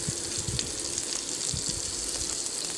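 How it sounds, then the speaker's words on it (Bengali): Water pours into a pan of fried cauliflower, potato, tomato, carrot and beetroot curry, making a steady close gushing splash with frying sizzle underneath. "এবার জল দিয়ে দেব।"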